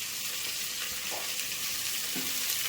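Onion and tomato sautéing in a pan for tomato rice, a steady broadband sizzle with faint stirring scrapes, close and continuous with no voices.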